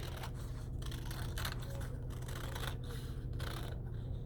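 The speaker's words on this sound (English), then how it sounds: "you are going to cut your fishbowl out along the black lines" Scissors snip steadily along black lines to cut out a painted paper fishbowl, a rhythmic series of close, soft crunching cuts over a constant low background hum.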